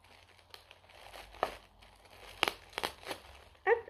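Sticker package being unwrapped and torn open, quiet close crinkling of plastic with a few sharper rips and crackles, the loudest near the end, with no talking.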